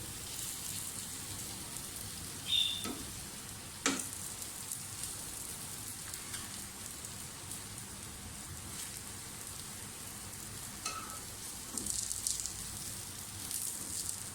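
Besan bread toast frying in oil in a pan gives a soft, steady sizzle throughout, fairly quiet and close, with occasional small pops and a light clink, and no talking.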